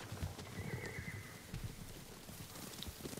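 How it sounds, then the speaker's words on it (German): Horses whinny and hooves clip-clop in the Ghost of Tsushima video game as riders approach, with a rising neigh over steady hoofbeats and dense game ambience. "Pferde, sie kommen uns holen."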